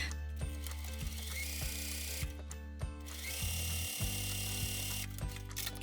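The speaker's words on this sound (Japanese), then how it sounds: "この折り目から6センチのところに ミシンで中縫いをしていきます" A sewing machine runs stitches along a tuck in skirt fabric: a humming motor whine broken by regular mechanical clicks and thumps, pausing briefly before starting again, close and clear with no talk.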